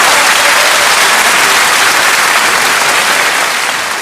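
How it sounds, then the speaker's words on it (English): Loud, dense applause from a crowd, a continuous hiss-like roar of many hands clapping that holds steady for four seconds with no voices. "We need to give her a big round of applause"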